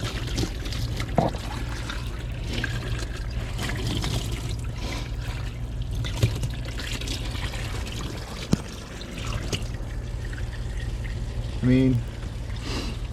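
Water spits, trickles and drains from a carpet-cleaning machine working an Armorlite carpet, a steady wet pouring hiss throughout with a brief louder spurt near the end; a person speaks briefly over it.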